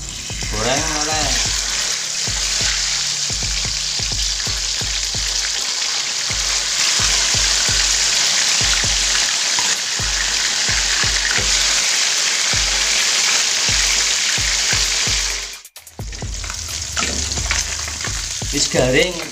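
Catfish frying in a pan of hot oil for pecel lele gives a loud, steady sizzle with repeated scraping and stirring knocks, briefly dropping out near the end before the crackle resumes.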